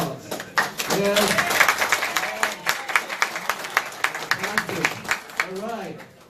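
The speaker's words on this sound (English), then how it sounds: "We deserve a big round of applause" A crowd at a network launch event in Burbank, California applauds, a dense wash of clapping that thins into scattered individual claps, with voices speaking over it.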